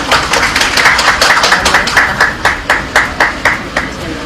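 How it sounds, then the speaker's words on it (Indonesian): Audience applause at a Kejaksaan Agung (Attorney General's Office) event marking the handover of recovered state funds, heard as a steady run of close, crisp claps that thin into slower, separate claps toward the end. "Boleh kita berikan tepuk tangan sekali lagi."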